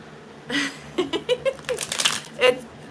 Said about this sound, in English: time to shuffle the cards again because I only have a few left